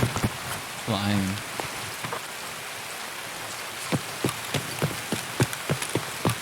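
Steady rain pours down on the Customs map in Escape from Tarkov, a dense even hiss with sharp clicks and taps of drops hitting surfaces, and a brief rumbling burst near the start.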